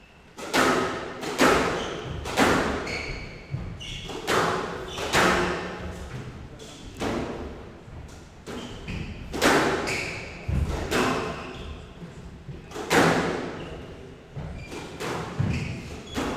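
Squash ball shots in a premier league squash match, with repeated sharp thwacks and wall thuds in an irregular rally rhythm, and commentators talking over the play.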